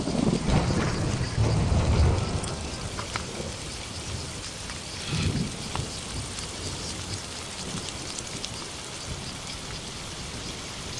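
Steady rain falls in Iberian countryside at summer's end, a dense hiss with low rumbles of distant thunder rolling in near the start and again midway.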